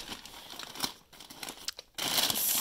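A big bag of chips, sliced open, is crinkled and crumpled by hand in bursts of close, crisp rustling that swell into a louder, steady crackle near the end.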